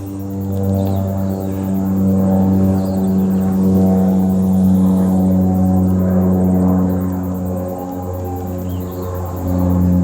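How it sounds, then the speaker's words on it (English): A steady, loud droning hum of an airplane passing overhead, sustained throughout with slight swells in intensity. "because there's a plane going over the top."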